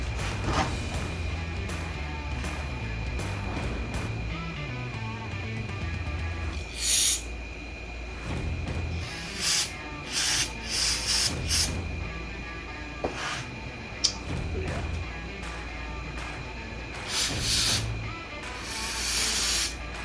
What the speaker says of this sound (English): I'm gonna go ahead and hit this with some carb cleaner.